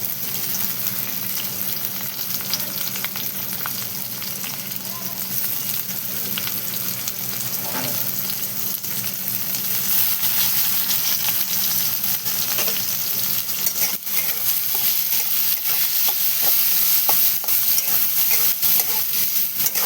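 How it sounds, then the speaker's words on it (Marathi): Onion and curry leaves frying in a pan for a cauliflower dish, a steady close sizzle and hiss that runs unbroken throughout with no talking. "कढीपत्त्याच्या नंतर बघा कांदा टाकून घेतला."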